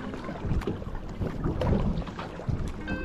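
Kayak paddled across a lake, soft irregular splashes and water swirls from the paddle strokes close by, mixed with gusty wind buffeting the microphone.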